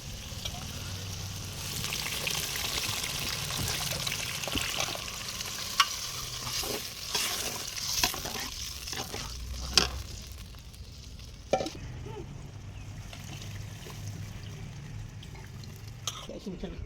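Old, dark tamarind water poured into a village-style fish curry and stirred, giving a steady wet sizzle with several sharp spoon knocks against the pot, close and continuous throughout.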